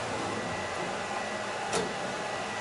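A Ricoh DTG printer running a print on canvas gives off a steady, moderately quiet mechanical whir and hiss, with one brief sharper click partway through.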